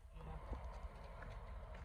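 Hoofbeats of a yearling Quarter Horse colt clop steadily on hard ground, a fairly close and even rhythm with faint background murmur.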